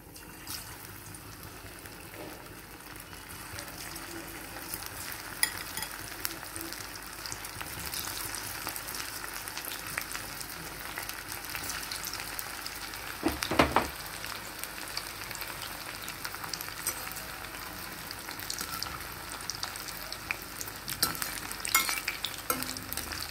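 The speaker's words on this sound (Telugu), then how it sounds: "చక్కగా క్రిస్పీగా అయ్యేదాకా వేయించుకోవాలి" Paneer deep frying in oil until crispy gives a soft, continuous bubbling sizzle heard at moderate distance, with faint occasional clinks and one brief scrape midway.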